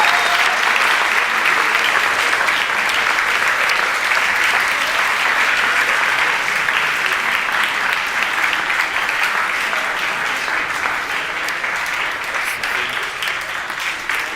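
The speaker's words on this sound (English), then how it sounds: "I think you deserve a round of applause" Sustained applause fills a hall at the HackZurich 2021 hackathon closing ceremony as the audience claps for volunteers called on stage, dense and steady throughout, easing slightly near the end.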